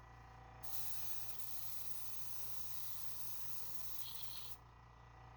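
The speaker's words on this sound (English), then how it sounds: "it's spraying weird" Spray paint can hissing steadily with slight uneven sputter while spraying burnt umber onto a jointed open-mouth lipless crankbait, a continuous close hiss lasting several seconds.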